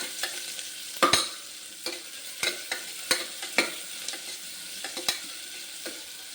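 Onions fry in a pan for kurma, giving a continuous sizzle with repeated sharp scrapes and taps as a utensil stirs them, close and moderately loud, with no voices.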